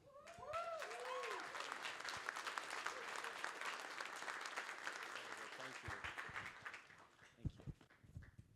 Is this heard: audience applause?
yes